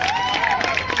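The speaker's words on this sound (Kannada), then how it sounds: "ದಯವಿಟ್ಟು ಜೋರದ ಚಪ್ಪಾಳೆ ಪ್ರಿನ್ಸಿಪಲ್ ಸರ್ಗೆ" An audience at a college helmet-awareness programme in Mysore applauds the principal, a short, dense burst of clapping with a faint cheer mixed in.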